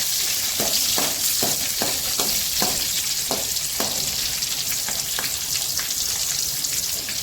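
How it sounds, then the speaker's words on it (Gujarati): Green chilies and sesame seeds sizzle loudly in hot oil over popped mustard seeds, a tempering for Gujarati khaman, with a steady crackling hiss and sharp spatters and stirring clicks throughout, no voices. "હવે મરચાં એડ કરીશું અને તલ એડ કરીશું. પછી બરોબર બધું મરચાંને તતરાવા દઈશું."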